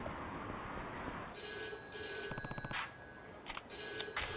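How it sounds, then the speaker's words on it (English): A telephone rings in the video game Yakuza 3, a bright electronic trill in repeated bursts over a steady background hum, with a short pause between rings. "Phone."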